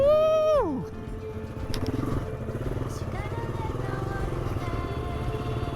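An adventure motorcycle rumbles over a difficult, slippery trail with a steady, choppy engine drone close by, preceded by a brief falling whoop from a voice.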